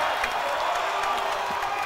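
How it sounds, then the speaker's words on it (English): Crowd at a college men's basketball game, Yeshiva against Mount Saint Vincent, roars loudly and continuously after a dunk, with dense cheering and some clapping across the whole stretch. "This crowd is on their feet."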